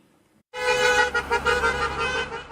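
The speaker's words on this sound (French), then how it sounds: "Concert de klaxon samedi au rond-point de la Résistance au Clé-sous-Bois" A car horn sounds in one long, loud, steady blast at a roundabout during a Saturday yellow-vest protest, starting abruptly after near silence and holding with slight wavering.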